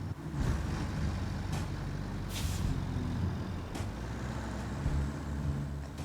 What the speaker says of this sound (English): Maybe if I take the brake off.